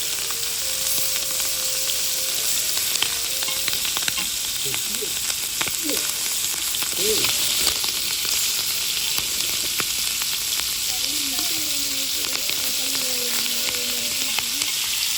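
Squid fries in hot oil with a dense, continuous sizzle and crackle, spitting and popping close by for the whole stretch, while faint voices murmur in the background.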